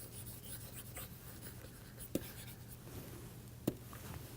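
Chalk or marker scratching and tapping on a board while a matrix is erased and redrawn, soft continuous strokes with two sharp taps, close and quiet, no talking.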